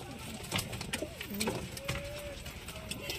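Loft pigeons coo softly in sweltering heat near 45 degrees, several low rolling coos rising and falling at moderate distance over a faint background hum.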